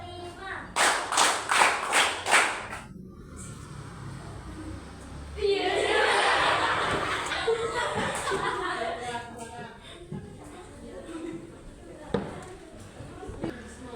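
A classroom claps five quick, evenly spaced times in a counted rhythm, followed by chatter and some laughter from the class, with scattered taps afterward.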